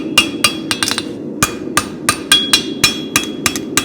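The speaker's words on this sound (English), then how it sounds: "Hammer this inside edge back down." A hammer strikes the inside edge of a horseshoe while a farrier forges spavin shoes, sharp ringing metallic blows landing in a quick, slightly irregular rhythm, about fifteen hits, close and loud.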